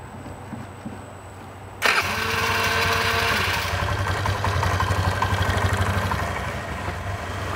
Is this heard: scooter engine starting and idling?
yes